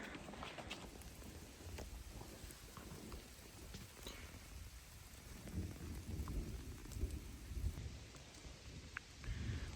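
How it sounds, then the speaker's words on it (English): A thunderstorm rolls through on public land in elk country, with steady rain pattering on surfaces and low thunder rumbling throughout, rising in places, heard faintly from outdoors with no talking. "I got this crazy lightning and thunderstorm rolling through, and it's raining again."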